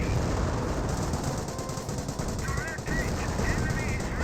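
A Henschel aircraft strafe run in Company of Heroes: steady, dense machine-gun fire that rattles on without pause under a continuous battlefield din, with faint speech.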